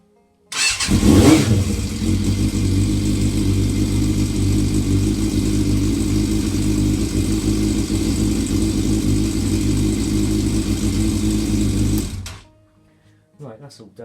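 A Yamaha Fazer motorcycle engine catches, revs briefly, then holds a steady loud idle for about ten seconds before cutting out, followed by faint handling noises.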